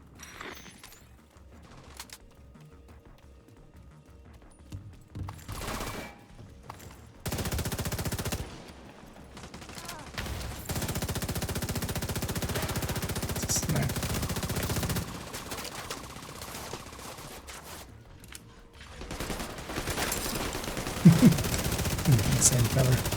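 Bursts of automatic gunfire and shots from a shooter video game in a zombie-outbreak setting, loud and recurring across the stretch, mixed with game sound effects and occasional talk.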